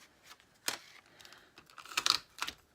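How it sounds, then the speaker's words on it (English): A tape runner lays adhesive during card making, heard as short clicking and sticky rasping strokes near at hand, spaced irregularly and moderately quiet, with no speech. "So I'm just going to grab my tape runner."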